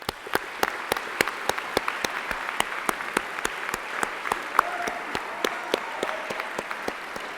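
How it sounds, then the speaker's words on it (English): A convocation audience applauds the faculty with sustained, dense clapping throughout, crisp individual claps standing out over the steady roar of the crowd. "So, a round of applause for our wonderful faculty."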